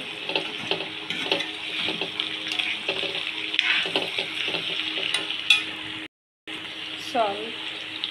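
Escargot sautés in a pan with a soft, continuous frying sizzle and repeated scraping stirs. The sound breaks off briefly near the end, then the stirring and sizzle resume.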